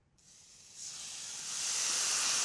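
A marinated flank steak hits a grill pan heated on high and sizzles with a sudden, steady hiss that grows louder and fuller over a couple of seconds, close, with no voices.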